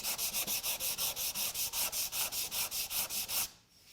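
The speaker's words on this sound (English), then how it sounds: "veneer is pretty thin, so don't go nuts sanding that" Rhythmic back-and-forth sanding of thin wood veneer on a clock face, about sixteen even rasping strokes in quick succession, close and fairly loud, stopping abruptly near the end.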